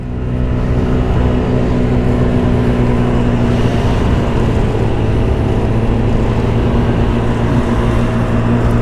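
Small Mondial Wing 50 RR 50cc motorcycle engine running on the road, a loud steady drone with constant wind rush throughout, no voices.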